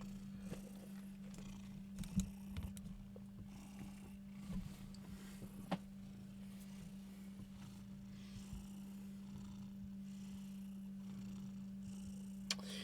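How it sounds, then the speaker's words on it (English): A cat purrs steadily up close, a low continuous rumble broken by a few small chirps and faint clicks. "We got chirpy purrs going today."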